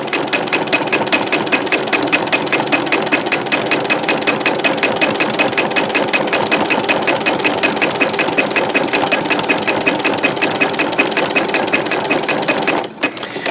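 A sewing machine stitches cheap dollar-store rope into an oblong rope bowl, its needle hammering in a fast, even, close-up rhythm that runs almost without pause.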